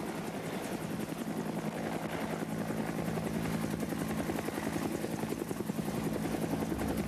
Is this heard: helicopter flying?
yes